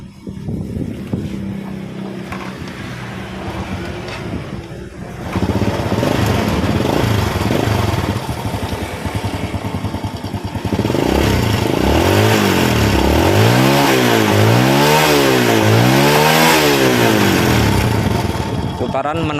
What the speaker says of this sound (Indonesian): kita coba nyalakan menggunakan engkol ya